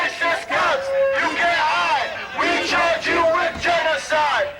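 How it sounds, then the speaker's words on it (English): A large evening crowd gathers at a police shooting site for a vigil, loud overlapping voices shouting and calling out together, close and continuous with bursts of raised cries. "a large crowd gathered at the site for an evening vigil"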